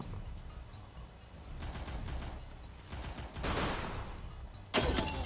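Gunfire sounds in the Free Fire battle royale game, with bursts of automatic shots at varying distances, some distant and muffled, and a sudden loud close burst near the end.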